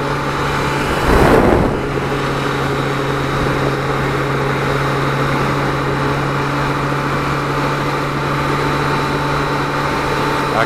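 Kawasaki Concours 1000 inline-four motorcycle cruising on the highway at 80 mph, a steady droning engine hum with wind roar, constant and close throughout, with a brief louder gust of wind noise near the start.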